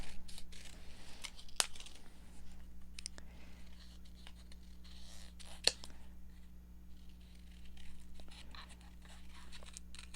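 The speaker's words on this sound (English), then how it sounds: "Maybe I'll cut this out." Scissors snipping out a piece of card during a craft project, quiet intermittent cuts with a few sharper clicks over a low background hum.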